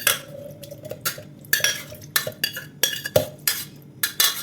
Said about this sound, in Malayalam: നമുക്കിതൊരു മിക്സിൻ്റെ ജാറിലേക്ക് ഇട്ടുള്ളൂ.